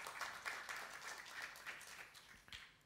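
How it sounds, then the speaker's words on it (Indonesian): A church congregation claps in praise during a sermon, a steady patter of hands that sounds moderately distant and a little muffled, running throughout. "Kita boleh kasih tepuk tangan untuk Tuhan kan?"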